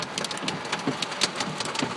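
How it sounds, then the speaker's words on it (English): Hailstones pelting down during a storm in Des Moines, Iowa, a dense patter of sharp, irregular clicks and taps on hard surfaces, steady and close, with no voices. "Hail."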